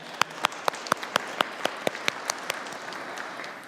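A church congregation applauds the choir at a Sunday Mass in Lent with a soft wash of many hands, while one nearby clapper beats a sharp, steady rhythm of about four claps per second over it.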